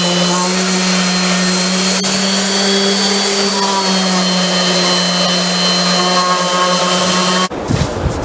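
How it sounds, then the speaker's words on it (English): A loud, steady motorized whine of a power sander running close by on an oak and marine plywood step stool, droning continuously before cutting off abruptly near the end. "Just do a little sanding"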